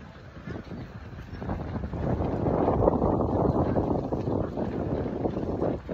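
Strong wind buffets the microphone at the start line of the Barcelona half-marathon, a loud, continuous low rumble that swells and holds steady throughout.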